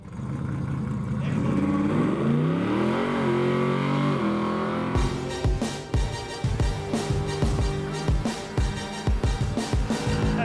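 A drag racing car at Bindoon drags roars under full throttle, the engine note sweeping up through gear changes before a burst of crackling, popping exhaust rattles close and loud.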